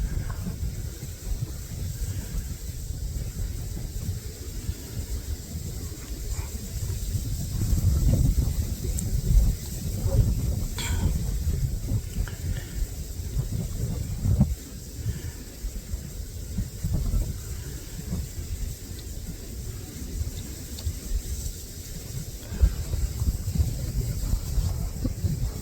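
Steady wind buffets the microphone beside a culvert while someone fishes, a constant rough low roar with gusts rising and falling throughout.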